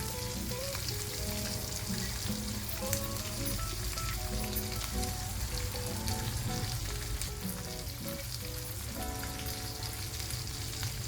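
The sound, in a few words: asafoetida sizzling as it is added to hot oil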